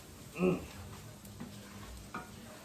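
Garlic browns in butter in a pan with a soft, faint sizzle and a brief stir near the start.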